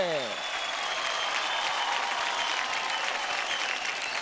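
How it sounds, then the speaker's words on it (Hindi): Loud, steady audience applause fills a Hindi TV kids' dance show studio after a performance, with a brief musical sweep fading out at the start and cheering voices mixed in throughout. "जोरदार तालियां हो जाए टेरिया और विशाल के लिए"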